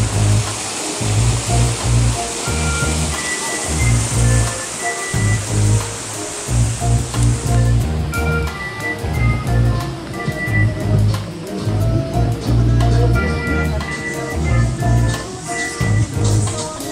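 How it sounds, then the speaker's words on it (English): Rough, cold water of the Thatch Hill River in St Mary roars steadily and close, with a rhythmic low churning that keeps pulsing throughout. "I am not going into this roaring river."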